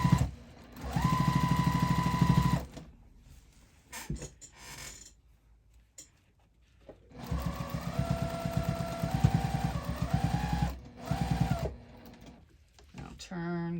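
A sewing machine stitches binding onto a pumpkin-shaped fabric hot pad, humming in two steady runs with a pause between, close and clear, as a person talks over it.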